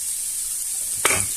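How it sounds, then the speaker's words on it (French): Onions drop into very hot oil in a pan with a sudden burst of sizzle over a steady background hiss, close and brief, with no talking. "notre huile est très chaude. Donc on va mettre les oignons dedans."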